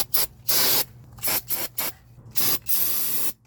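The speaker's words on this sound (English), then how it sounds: "spray that down with a little bit of brake spray" Brake cleaner sprayed onto a Mazda 6 front brake caliper with the pads removed, close and loud in about six hissing bursts of varying length separated by short pauses.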